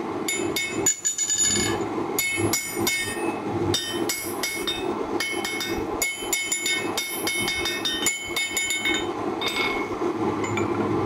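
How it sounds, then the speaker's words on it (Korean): Repeated hammer blows ring on hot steel at an anvil while a very old farrier's-style hammer, originally made for Danish horseshoe makers, forges a zebra Damascus knife blade; sharp metallic clinks come in quick, uneven bursts, close and loud. "이거는 굉장히 오래된 망치인데"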